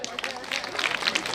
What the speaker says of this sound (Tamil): அவங்களுக்கு கைத்தட்ட கொடுத்துருக்க.